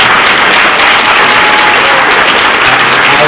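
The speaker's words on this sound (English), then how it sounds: "I think we should give Eric another round of applause." A town hall meeting audience at a high school claps in a loud, dense, continuous round of applause that fills the whole stretch with no break.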